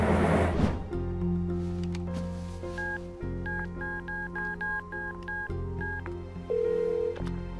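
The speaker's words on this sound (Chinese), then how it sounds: "我刚才呢是要找阿静的，结果按成你的电话了。" Telephone keypad tones beep as a number is dialed, a quick series of short, evenly spaced DTMF tones following an initial handset sound, with no one speaking.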